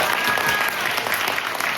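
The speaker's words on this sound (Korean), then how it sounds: "박수 한번 주시죠." Students at a university opening chapel service applaud with dense, continuous clapping from a sizable audience, loud and close, with no speech over it.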